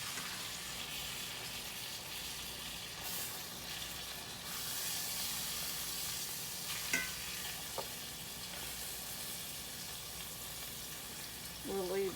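Food frying in a pan on low to medium heat gives a steady, moderate sizzle and hiss with a few soft scrapes and clinks, and no talking over it.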